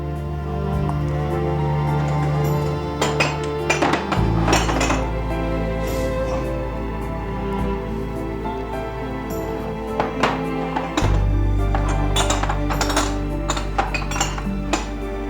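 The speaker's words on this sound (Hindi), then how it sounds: "पहले तुम डिशवॉशर से बर्तन निकाल दो, इसके बाद कप्स और प्लेट्स को तुम कबर्ड में रख देना" Dishes, cups and plates taken from a dishwasher and put into a cupboard clink and clatter steadily and close, over a loud constant hum, with no speech.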